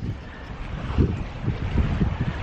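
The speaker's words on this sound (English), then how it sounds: "it might be too windy" Wind buffets a microphone outdoors by the water at Nong Khai, Thailand, giving a loud, continuous low rumble with gusty thumps and no speech.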